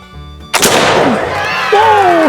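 A Kibler Fowler muzzleloader loaded with a round ball fires one loud, close shot that booms and rings off. A person then exclaims loudly over the fading tail.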